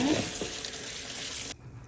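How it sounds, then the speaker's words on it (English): Rice being rinsed under a running tap, a close, steady hiss of water pouring into a sink that stops abruptly before the end. "1 cup of rice, rinse until the water runs clear."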